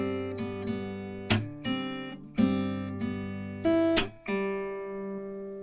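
An acoustic guitar picks out single notes and open strings of a song, each note ringing clearly with a few sharper plucks, played alone with no talking.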